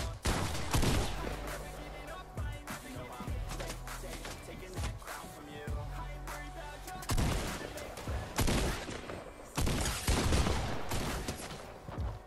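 Gunfire in a shooter video game: dense volleys and rattling bursts of shots over busy, continuous game noise, with a voice talking now and then.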